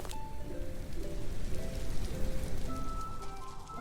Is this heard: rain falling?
yes